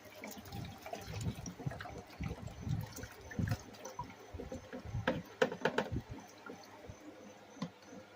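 Hydrogen peroxide solution is poured into a container while refining gold-plated boards, giving a faint, uneven splashing and trickling of liquid with scattered clinks and handling knocks and no talk.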